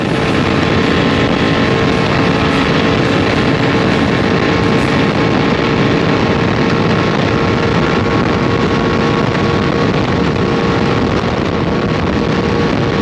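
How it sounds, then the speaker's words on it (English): A brand-new Baja 500 race truck with a Gibbs engine is held wide open at full throttle on a long desert stretch, a loud, steady engine roar with heavy wind buffeting and no talk. "His favorite thing to do is leave that line and hold the truck wide open as long as he can."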